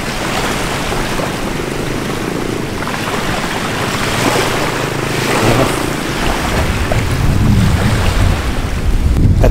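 Steady rushing of wind and water against a moving boat on the Caribbean Sea off Belize, with waves slapping the hull and a low engine rumble throughout, no voices.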